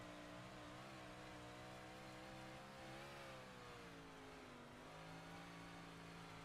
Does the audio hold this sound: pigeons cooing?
no